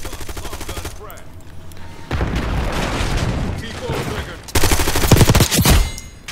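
Gunfire in Black Ops 6, loud rapid bursts of automatic fire with heavy booming shots, stopping and starting in dense volleys.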